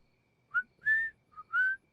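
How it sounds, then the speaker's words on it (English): A person whistles a short tune, four clear pure notes with small gaps between them, close and quiet against a silent background. "whistling is an excellent way to play music without using electricity"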